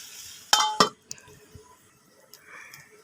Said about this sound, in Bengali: এখন কচুরমুখিগুলো দিয়ে দিলাম। এখন ভালোভাবে কষিয়ে নেব।